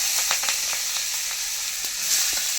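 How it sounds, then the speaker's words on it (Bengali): Three medium chopped onions sizzle in hot oil, a loud, bright, continuous hiss with a few stirring clicks, heard up close without talk. "3টে মাঝারি সাইজে পেঁয়াজ টুকরো করে কেটে রেখেছি তেলের মধ্যে দেবো"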